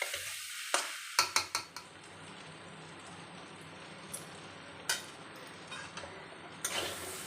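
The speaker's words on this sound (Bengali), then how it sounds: "একটু নাড়াচাড়া করবো।" Vegetarian taro curry being stirred in a pan, with a handful of sharp scraping clicks from the utensil over a low, steady background sizzle; no one speaks.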